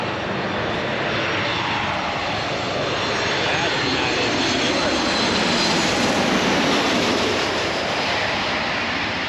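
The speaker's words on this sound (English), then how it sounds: "there's a flight arriving from Newark, a United Airlines flight" A United Airlines jet arrives from Newark at St Maarten, its engine roar loud and sustained. The noise swells steadily as the plane passes overhead, while voices talk faintly underneath.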